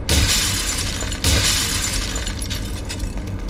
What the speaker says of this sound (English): Breaking up the glass.